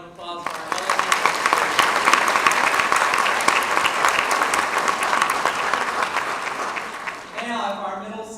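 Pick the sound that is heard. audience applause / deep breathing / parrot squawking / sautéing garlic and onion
audience applause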